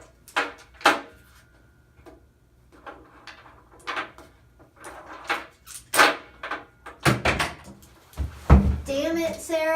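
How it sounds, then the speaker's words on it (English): Toys are slammed on a table in a series of sharp, irregular knocks and bangs, fairly close, with a voice and adult talk in between. "Stop slamming the toys."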